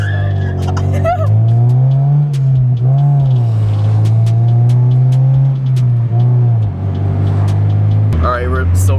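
A Honda Civic with a loud aftermarket exhaust drones steadily and up close with a deep rumble, then revs up near the end while people talk over it.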